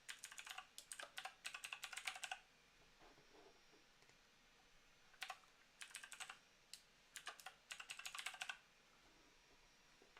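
Clustered runs of fast keystrokes on a computer keyboard, close and crisp, stopping and starting in several bursts with short gaps between, no talking.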